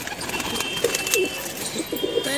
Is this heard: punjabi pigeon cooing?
yes